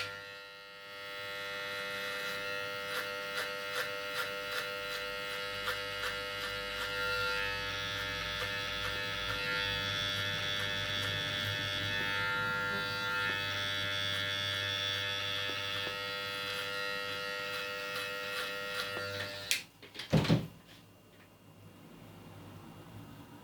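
An electric hair clipper fitted with a number 2 guard hums steadily with a bright buzz while cutting hair during a fade haircut, running continuously for about twenty seconds before a brief clatter near the end.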